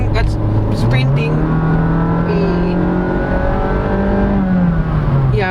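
A 2023 Honda City RS hatchback accelerates hard, its engine note rising in pitch, holding, then climbing again through the gears, heard from inside the cabin while someone talks over it.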